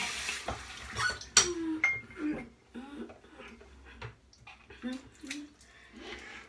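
Water splashes and trickles at a sink while a man wets his face before shaving, a close run of irregular sloshes and drips with faint voices now and then.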